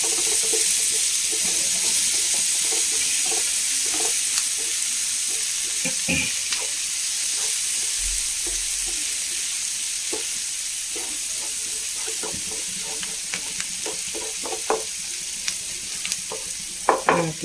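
Cubed onions sautéing in a pan for a cauliflower masala, a steady sizzle and frying hiss running throughout, with frequent scraping and stirring clicks of a spoon against the pan.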